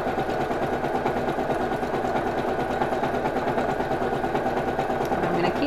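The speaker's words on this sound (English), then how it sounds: "I'm just going to do a zigzag stitch close to the edge of the fabric, so it's actually catching the edge of the fabric" A sewing machine runs a zigzag stitch close to the edge of fabric for reusable cloth toilet paper, giving a steady, continuous close-up mechanical whir at a constant pace throughout.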